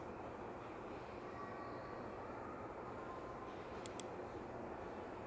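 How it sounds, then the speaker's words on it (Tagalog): A mouse-click sound effect from a mobile video editing app's SFX assets: two quick, sharp ticks close together, set over a steady low rumble of background noise. "Pindutin na po natin yung SFX assets. Tapos mouse click."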